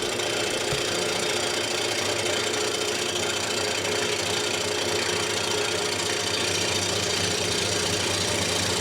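A wood lathe spins a large, heavy bowl blank mounted on a faceplate, giving a steady close rumbling hum with a rhythmic low throb that runs continuously without talk.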